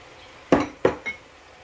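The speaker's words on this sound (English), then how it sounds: "I'm going to add 1/2 pound of sliced mushrooms" Half a pound of sliced mushrooms dropped into a pot of hot Italian sausage and clam chowder, two close clattering thuds and a lighter clink, then quiet.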